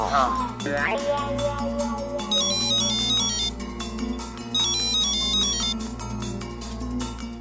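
An electronic ringtone melody repeats several times on an outgoing phone call, loud and close, over a steady low background.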